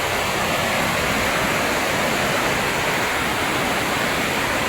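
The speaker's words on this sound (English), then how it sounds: "And there's a waterfall in front of me. And it is really huge because it has been raining." A huge village waterfall swollen by recent rain: a loud, dense, unbroken roar of falling water that stays constant throughout, with no voices.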